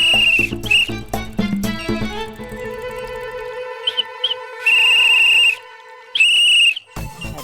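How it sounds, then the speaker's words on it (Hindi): A shrill whistle is blown repeatedly, first in quick chirping bursts, then a few short toots and two long steady blasts, loud and close, set against a sustained musical tone in a TV show scene. "बोल रहे हो या फिर सीटी बजा रहे हो?"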